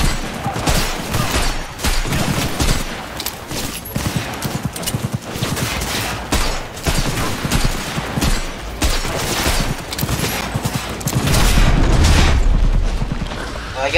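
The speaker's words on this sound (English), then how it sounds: "I'm taking fire!" Enemy gunfire during a warehouse raid in Cyberpunk 2077, a loud, dense fusillade of rapid shots and bursts running nonstop with a heavier boom near the end.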